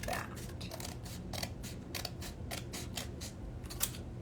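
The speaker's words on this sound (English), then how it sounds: "then we're just gonna cut right down the middle" Scissors snip through folded paper circles for a watermelon fan craft, giving a close run of about a dozen crisp, evenly spaced cuts against a quiet background.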